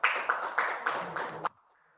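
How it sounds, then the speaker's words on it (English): A small conference audience applauds its presenters at an academic session, with a brief round of clapping at moderate loudness that stops abruptly, leaving a quiet room hum. "Please join me to give applause to all of the presenters"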